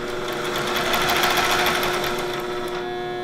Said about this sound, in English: this sewing machine really wants to go